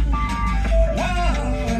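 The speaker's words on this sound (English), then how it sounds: "That was definitely the last owner picked that radio station" A radio plays a station inside a supercharged 1997 Subaru Sambar Dias II with a crystal roof, with tonal melodic music sounding over a loud low engine rumble in the cabin.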